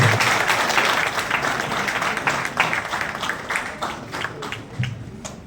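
Audience applause at a student felicitation ceremony honouring a family, a dense, steady burst of many hands clapping that carries on for several seconds with small swells before easing slightly.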